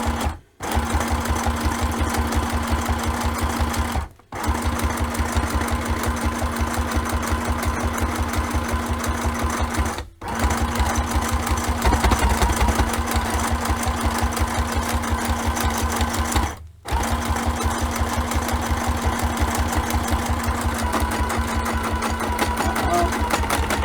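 A sewing machine runs steadily and loudly up close with a rapid, even mechanical whir, stopping briefly four times before starting again.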